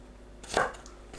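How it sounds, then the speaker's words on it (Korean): Garlic being cut into thin slices with a knife, a single soft chopping thud against a board, close and brief, with a faint tap after it and no voices. "마늘을 편 썰어 주세요"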